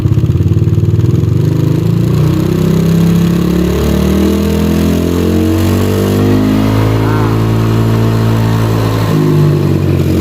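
A Yamaha Aerox motor scooter engine with a rattling knock revs loudly up close, its pitch rising and falling under a steady throttle, with a voice briefly audible beneath.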